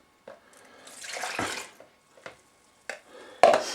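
Water, 330 grams of it, poured into a mixing jug in a home kitchen, heard as quiet irregular splashing bursts with short pauses and a brief clatter near the end.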